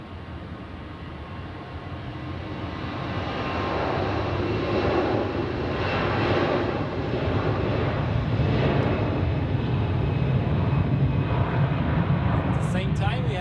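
An airliner lands at Zurich airport, a steady broadband jet roar that swells gradually and holds, heard from a distance with a voice talking over it.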